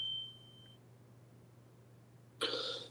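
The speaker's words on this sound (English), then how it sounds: "My fire alarm is going off" A home fire alarm gives a thin, steady high beep that stops, and after a pause a sharp, loud burst of noise follows. The sound is faint and nearby, and no one speaks.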